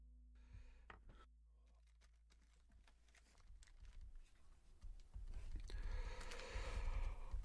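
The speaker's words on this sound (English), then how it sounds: "that was a yawn and a half" A drawn-out, breathy yawn that swells louder toward the end, over a low steady hum.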